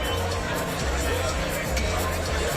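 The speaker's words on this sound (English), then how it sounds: "got a pretty good crowd on hand here at the Blue O's playing fields" Spectators at a softball game at the Blue O's playing fields in the Bahamas make a steady hubbub of crowd chatter and background babble, with voices mixed through it.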